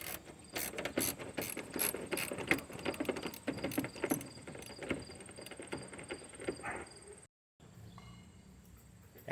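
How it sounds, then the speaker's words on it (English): A 10mm ratchet loosens headlight bolts on a 2018 Chevy Express van, with fast, rhythmic clicking of the pawl in close bursts that pause, then a quieter stretch after a brief cut. "I got a 10mm ratchet tip on the end of there. And you loosen that up"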